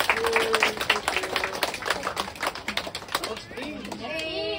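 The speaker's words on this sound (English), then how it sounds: "let's clap all together to Mr. Alex and Honey Vance" A small group claps together at an anniversary meal, a brief burst of quick, close hand claps mixed with voices talking over them.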